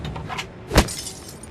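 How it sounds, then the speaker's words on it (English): A glass bottle smashed over a man's head in the video game Beyond a Steel Sky: one sharp, bright crash in the middle, briefly loud over a low ambient game background, with no talk. "I smashed the bottle over the guy's head."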